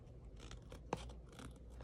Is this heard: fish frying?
no